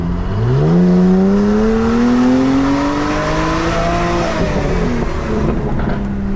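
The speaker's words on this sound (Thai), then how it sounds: "มีเสียงป๊อปคอร์นนิดหน่อยนะปุกปักปุกปักนะครับ" A loud BMW F10 engine revs up and holds, then eases off, with scattered crackling pops from its aftermarket adjustable exhaust toward the end.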